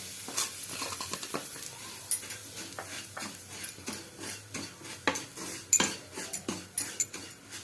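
Semolina (suji) roasting in oil in a kadai over low flame, soft sizzling beneath repeated light clinks and scrapes of a spoon stirring against the pan, quiet and close.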